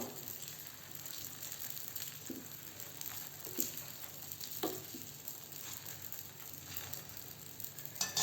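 Moong dal cheela batter cooks on a tawa with a faint, steady sizzle and light crackle, a few soft taps and scrapes scattered through, no voices.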